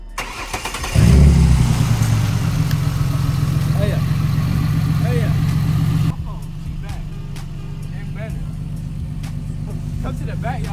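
A 2005 Mustang S197 engine fires up after a tune-up with new spark plugs, wires and coil pack, roaring loudly at first, then settling into a lower steady idle.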